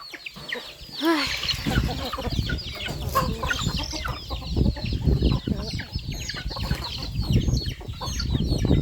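A chicken being handled and squeezed gives sharp clucks and squawks at close range, with a voice talking intermittently among the bird's agitated calls.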